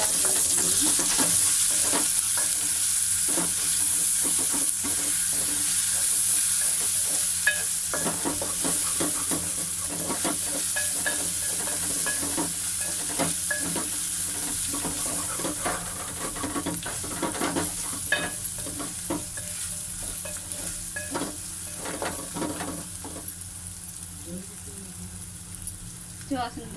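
Ginger paste fries in a pan for gongura (sorrel leaf) chicken, a continuous soft sizzle broken by repeated scraping stirs, close and steady.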